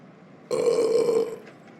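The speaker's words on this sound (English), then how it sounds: "I am going to fart and burp." A single loud, close burp lasting under a second, rising abruptly out of near silence and tailing off quickly.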